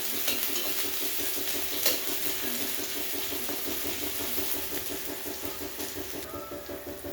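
Chopped onion frying on a gas stove as it is stirred in a pan, a soft, steady sizzle with rhythmic scraping and light metallic clinks, quiet and continuous.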